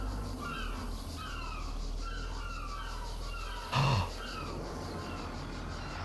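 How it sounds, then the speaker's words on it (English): Seagulls calling in the theme-park building game Planet Coaster 2: a series of short, repeated cries over steady ambient background, with one loud low thump near the end and a brief voice. "the sounds of seagulls."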